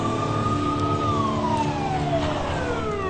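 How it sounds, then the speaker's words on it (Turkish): An ambulance siren wails loudly and close, its pitch sweeping steadily downward as the vehicle pulls up, sounding alone without voices. "Ambulans geldi."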